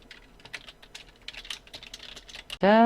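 Fingers type on a computer keyboard while working in Photoshop, giving close, quick, irregular key clicks. The typing ends in a sudden loud, tonal burst.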